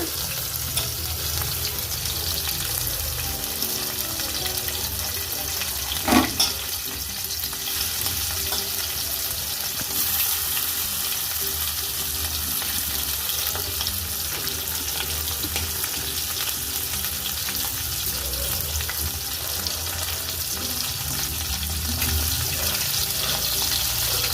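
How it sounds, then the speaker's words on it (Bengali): Steady, loud sizzling of tiger prawns frying in hot mustard oil, a continuous close crackle with one brief clink partway through. "এখন এক একটা করে চিংড়ি মাছ একটুখানি ভেজে নেওয়া হচ্ছে"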